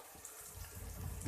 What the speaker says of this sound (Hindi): अब इसके अंदर हल्का सा मैं पहले पानी का छींटा लगाऊंगी